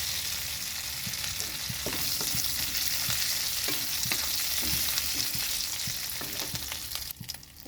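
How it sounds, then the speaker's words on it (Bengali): Whole cumin seeds sizzling in oil left over from frying prawns, a continuous bright hiss with scattered crackles and spoon stirs, close and steady, no one speaking. "এই তেলের মধ্যে আমি দিয়ে দিচ্ছি গোটা জিরে।"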